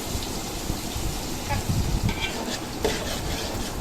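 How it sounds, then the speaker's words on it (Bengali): Chopped onions for chicken biryani fry in hot oil with a dense crackling sizzle, close and loud, broken by a few scraping stirs and light clinks of a utensil against the pan; no one speaks. "তেল দিয়ে পেঁয়াজগুলো বেরেস্তা করে নেব"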